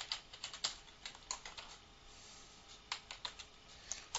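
Fingers type a file name on a computer keyboard in two quick bursts of close, crisp key clicks separated by a short quiet pause.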